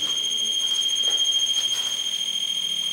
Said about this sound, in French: Ça c'est le détecteur de mouvement.